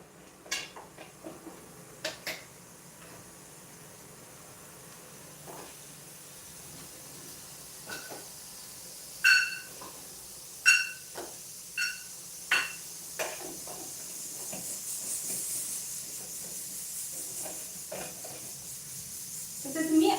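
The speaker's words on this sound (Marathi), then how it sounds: "इथे माझं मुगाचं वरण बनत आहे कुकरला लावलेलं आहे" A pressure cooker cooking moong dal for a packed lunch lets out a faint, soft steam hiss partway through, set among scattered kitchen clatter and sharp pot and utensil knocks in a quiet home kitchen.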